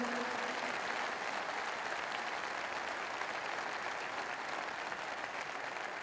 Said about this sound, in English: A round of applause, please, for Gunther.